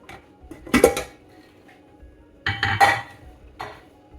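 Metal clanks and scrapes come in two short bursts separated by quiet as a pressure cooker lid is handled and lifted after its steam has released, with chicken curry inside.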